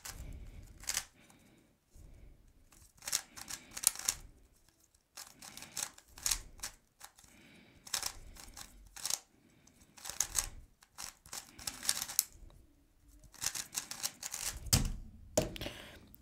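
A MoYu Weilong WRM 2021 MagLev speedcube is turned rapidly through a solve, with bursts of dense plastic clicking and clacking broken by short pauses, close and fairly quiet with no talking.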